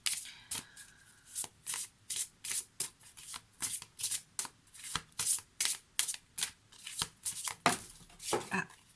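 Oracle deck shuffled and cards drawn during a reading, a rapid series of crisp riffling bursts and soft slaps repeating steadily for several seconds, close and clear with no talk.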